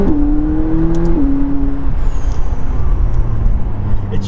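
A McLaren 570S turbocharged supercar accelerates up close, its loud engine tone holding steady and then stepping down over a constant heavy rumble that continues throughout.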